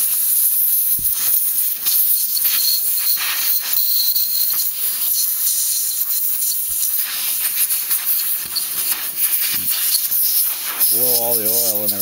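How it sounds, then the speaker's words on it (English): Compressed air blasts oil off an M-15 rifle bolt, a loud continuous broadband hiss lasting several seconds with fluctuating intensity, ending as a voice starts speaking. "another thing I like to do is I use compressed air"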